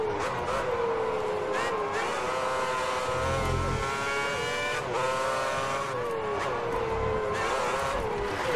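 Formula 1 car engine in a racing video game, droning loudly and continuously with rising and falling harmonic whine as the car pits, close and steady throughout, with a brief low thump around the middle.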